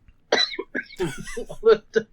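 A burst of harsh, repeated coughing from Dorito dust in the throat, several rough hacks in quick succession, close and fairly loud, with no talking.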